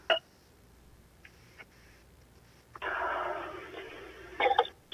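Phone keypad tones sound on a city council conference call: a few short beeps, a long steady tone, then a final cluster of quick beeps over a quiet line.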